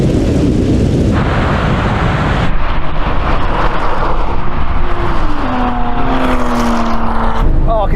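Porsche 911 Turbo cars of every generation accelerate hard and loud in a drag race, a continuous powerful rumble with rising gear-shift whines toward the end.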